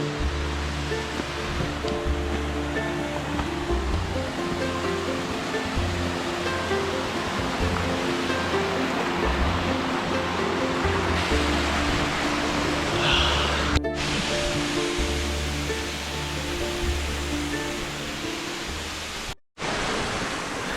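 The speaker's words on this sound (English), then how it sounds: "You can hear the water flowing around you." Water rushing steadily near Rainbow Falls in the Great Smoky Mountains, a dense, continuous broadband roar that fills the surroundings without pause, with a brief dropout near the end.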